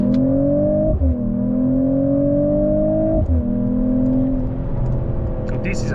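A Mercedes-AMG CLE 53 with a six-cylinder engine accelerates, its steady rising drone climbing in pitch, dropping briefly at two gear changes, then climbing again; loud and close, heard from inside the car.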